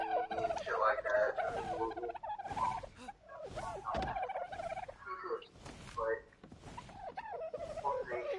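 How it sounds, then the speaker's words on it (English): Repeated gobbling, squawking bird calls from creatures in the survival video game Ark, loud and close, with players talking over them throughout. "These irritating birds are really getting on my nerves."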